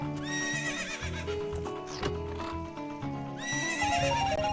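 A horse whinnies twice, loud and close, over steady clip-clopping hooves in the video game Ocarina of Time, with rhythmic electronic music playing throughout.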